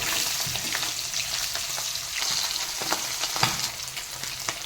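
Bachi fish frying in hot oil, a steady close crackling sizzle with scattered sharp pops and spits throughout, no voices.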